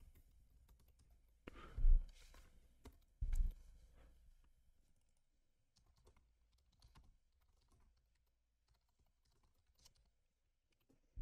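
Computer keyboard typing comes as a few quiet, scattered key clicks over near silence, with two louder thumps of handling early on.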